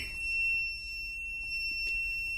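A power inverter sounds a steady high-pitched electronic beep alarm for a mains fuse trip, a continuous tone heard close up over faint background hum.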